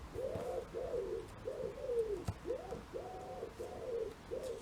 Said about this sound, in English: There's our wood pigeons calling for the